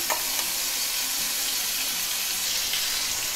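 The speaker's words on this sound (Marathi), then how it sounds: "आपलं जे हिरवं वाटण आहे ते आपण फोडणीला घालतोय" Green chili paste drops into hot oil tempering with crackling curry leaves in a kadhai, raising a loud, dense, continuous sizzle that stays steady from start to finish with no voices.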